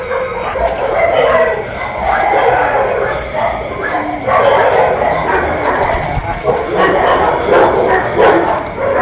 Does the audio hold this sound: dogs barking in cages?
yes